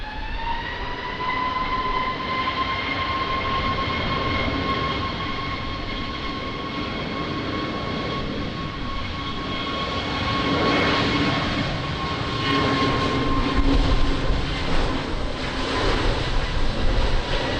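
A fixed-wing airplane takes off at windy Lisbon Airport, its engine roar loud and steady with a sustained whining tone, the rumble swelling and turning gustier toward the end.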